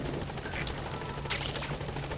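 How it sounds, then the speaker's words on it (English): A helicopter's rotor in the video game Metal Gear Solid V: The Phantom Pain drones steadily at moderate distance, a continuous thrumming hum with no talking. "That's helicopter."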